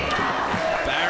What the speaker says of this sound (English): the Eagles chant has started down here, guys